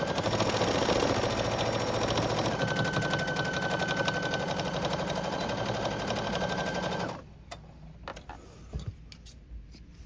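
A sewing machine runs steadily and loudly up close, back stitching a denim dress with a fast continuous whirring needle rhythm for about seven seconds, then it stops and a few faint handling clicks and rustles follow.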